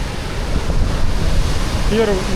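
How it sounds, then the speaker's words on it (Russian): Roaring first tier of the Krimml waterfall in Austria, a steady broadband wash of falling water heard from a viewpoint, with a faint tonal whine creeping in near the end. "первая ступень водопада"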